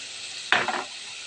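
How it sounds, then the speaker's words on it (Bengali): Meat korma with fried onions is stirred in a hot pan: a brief, sharp sizzle of frying flares up alone, then fades back into a quiet background. "এই ভাজা মাংস আর বেরেস্তাগুলো সব দিয়ে দেব"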